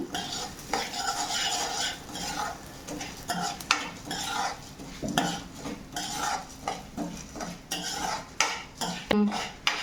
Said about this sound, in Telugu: ఎందుకంటే తొందరగా వేగిపోతుందండి జీలకర్ర